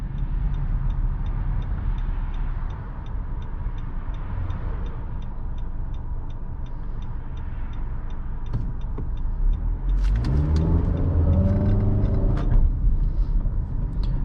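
A 2018 Nissan Rogue SL driving on the road, a steady low engine and road rumble from inside the cabin, swelling louder near the end as the car accelerates.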